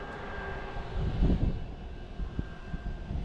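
A jet airliner's engines roar steadily in a broad, constant rumble with a faint whine, swelling slightly midway, with no talking.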